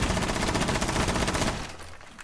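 Automatic gunfire from Rainbow Six Siege shoots through walls in a house map. A loud, continuous burst rattles for about a second and a half, then cuts off, with one last shot after a short pause.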